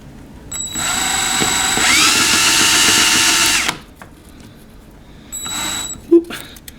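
A small electric fan motor from a Smart Fortwo spins while sandpaper is pressed against its copper commutator. A loud, high whine lasts about three seconds, falls silent, then returns in a short second burst followed by a small knock.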